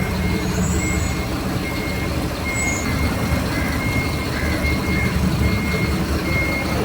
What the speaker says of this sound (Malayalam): ഇവിടെ വണ്ടി കയറിയിട്ടില്ല, ആദ്യമായിട്ട് വണ്ടി കയറുന്നുണ്ട്.